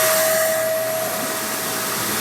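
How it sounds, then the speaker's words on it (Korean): A robot vacuum cleaner runs close by with a steady whirring hum and a thin high whine, loud and alone for a couple of seconds. "청소기 버튼을 누르고"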